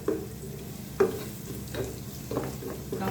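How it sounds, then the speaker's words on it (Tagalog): Sliced onions tossed into a pan for pansit bihon, frying and scraped with a utensil in several distinct stirring strokes over a steady low sizzle, close and moderately loud, with no talking. "nililagay ko na yung sibuyas"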